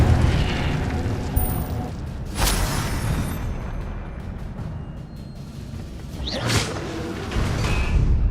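Incendio fire spell cast in the Hogwarts Legacy video game, heard as two loud whooshing fiery bursts a few seconds apart over a low rumbling game background.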